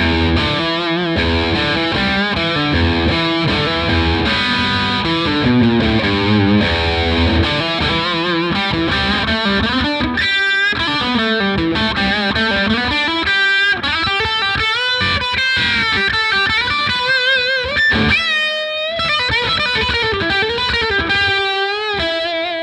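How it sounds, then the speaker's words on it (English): An electric 12-string guitar through a Gibson Maestro overdrive pedal plays a sustained, gritty riff of chords and bends, loud and continuous. "To get some of the overdrive sounds, I was using this awesome Maestro pedal by Gibson."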